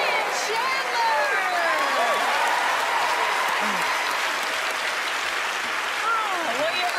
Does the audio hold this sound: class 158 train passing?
no